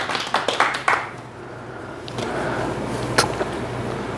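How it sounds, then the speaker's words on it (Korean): Clapping from attendees at a winter tree-cultivation training lecture, a handful of distinct hand claps near the start, then a quieter stretch with murmuring room noise and another scattered clap or two. "박수도 크게 치시고요."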